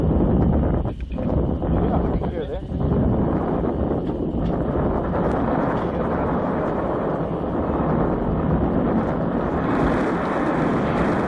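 Strong wind roaring across an exposed mountainside, buffeting the microphone in a loud, continuous rush with gusty surges.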